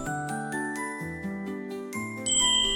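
A small Christmas bell shaken steadily, giving bright continuous jingling and ringing tones that shift in pitch, loud and close with no talking.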